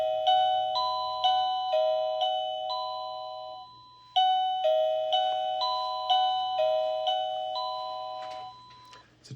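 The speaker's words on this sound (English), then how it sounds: "It's a traditional chime there." An OhmKat doorbell plays a traditional chime tune, two rounds of ringing bell tones, each a descending-then-rising sequence of clear notes that decay and overlap, with a short gap between rounds.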